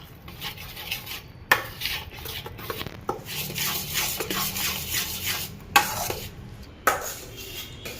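Metal spoon scraping and stirring a dry milk powder and semolina mixture in a pan for gulab jamun, with repeated rhythmic scrapes and occasional sharper clinks against the pan, close and fairly quiet.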